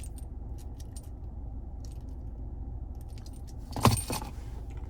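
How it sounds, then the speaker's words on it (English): A Subaru Ascent Touring key fob jangles briefly near the end, a short bright metallic rattle over a quiet low cabin hum. "And finally, there's your key fob."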